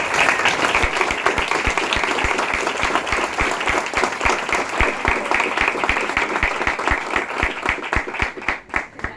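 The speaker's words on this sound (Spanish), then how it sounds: "La recibimos con un fuerte aplauso." An audience at an evening talk breaks into sustained applause, dense clapping that holds steady for several seconds and then thins out toward the end.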